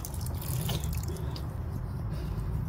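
Water poured onto a dry, potted calamansi tree, a steady close wash of trickling and splashing into the soil with scattered drips, continuous and even throughout, no voices.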